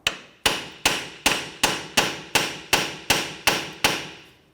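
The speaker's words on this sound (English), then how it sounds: "Now we're striking the knuckle here because our bolts are stuck in here." A hammer strikes the rusted steering knuckle of a 2011-2015 Kia Sorento, trying to free bolts seized by rust: ten loud, sharp metallic blows land at a steady, even pace, each one ringing briefly before the next.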